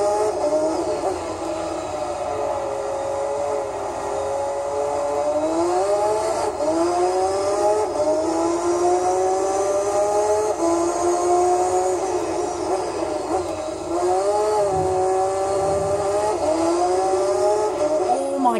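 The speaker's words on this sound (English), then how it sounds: "That was the sound of the 787B on the lower highway path just below us there." Mazda 787B race car in Gran Turismo 3 on a lower highway section, its high rotary engine wailing steadily, pitch rising and falling in long sweeping shifts, with a noisy, continuous roar over the whole stretch.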